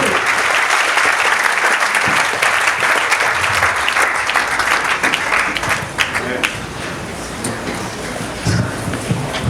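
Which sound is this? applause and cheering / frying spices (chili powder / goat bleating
applause and cheering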